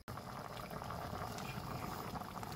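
Pure coconut milk boiling hard in a pot gives a continuous close bubbling and simmering hiss that starts after a brief silent instant and holds steady.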